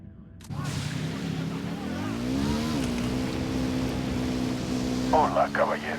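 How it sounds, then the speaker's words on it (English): Motorcycle engine from the video game Ghost Recon Wildlands, a steady droning hum that rises in pitch as the bike speeds up, holding loud and continuous, with brief game noises near the end. "I'm riding the motorcycle."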